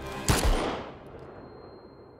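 A single gunshot from a TV drama, a sharp loud crack followed by a fading echo and a lingering low rumble, heard alone without speech.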